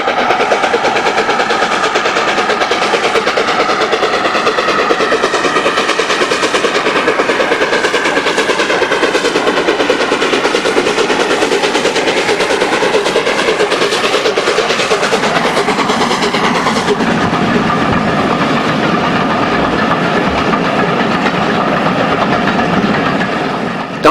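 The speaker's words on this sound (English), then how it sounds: "St Nigel Gresley is in its 3rd or 4th mainline incarnation now, but here does battle with the Moors at Greymont" Steam locomotive Sir Nigel Gresley working hard on the mainline over the Moors, a loud rapid exhaust beat pounding steadily with heavy chuffing and rail roar, gradually easing as it passes.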